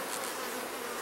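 Honey bees buzzing at a hive in winter, a steady dense hum of many wings, fairly faint and continuous with no voices.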